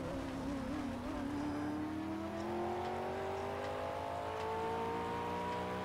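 A car engine in the Project Cars video game revs and climbs steadily in pitch, holding a loud, continuous whine with no talk over it.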